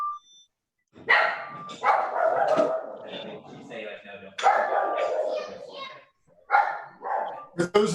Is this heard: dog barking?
yes